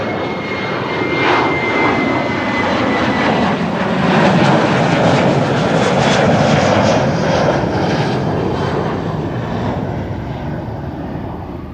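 A jet airliner takes off at Amsterdam Schiphol, a loud, broad roar that swells and holds, then slowly eases as it passes, heard alone without talk.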